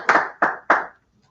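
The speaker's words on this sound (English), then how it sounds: "let's give him a round of applause" A workshop audience welcomes a speaker with clapping: three sharp, evenly spaced claps ring out clearly and close, then a short pause and a faint fourth clap begins.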